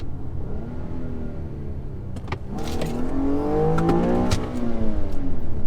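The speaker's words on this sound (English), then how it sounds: "That sound. The rev matching downshifts." A nearby 2007 Infiniti G35 Sport engine rumbles, then blips sharply upward in short rev-matched bursts between downshifts, its pitch rising and falling over a steady drone.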